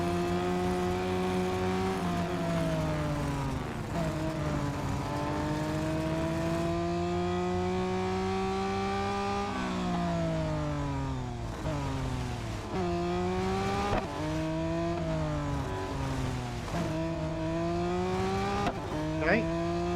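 A race car in the mobile racing game Real Racing 3 drives a full lap, its engine whining and rising through the gears and dropping sharply into corners, with steady game audio and someone talking over it throughout.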